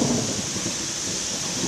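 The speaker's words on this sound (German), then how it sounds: "Hört ihr das Gewitter?" Thunder rumbles steadily through a thunderstorm heard from a balcony, a low continuous roll mixed with the hiss of rain, moderately loud and unbroken, with no one talking.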